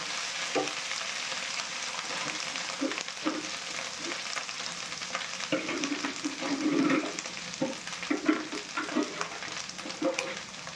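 Ginger-garlic spice paste for a mustard rohu curry fries in oil with a steady close sizzle, punctuated by repeated scraping and stirring knocks that grow busier toward the end.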